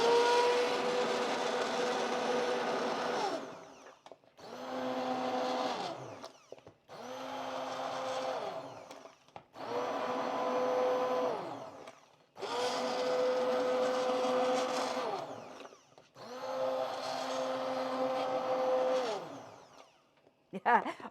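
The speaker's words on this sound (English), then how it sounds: "I love my immersion blender." An immersion blender purees sweet potato peanut bisque in repeated bursts of several seconds each, its steady high whir dipping and rising in pitch as it churns through the soft vegetables, with short pauses between runs.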